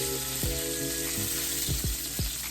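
Pork chops sizzle steadily in a hot pan for smothered pork chops in gravy, a continuous close frying hiss broken by a few soft thuds and clinks of utensils against the pan.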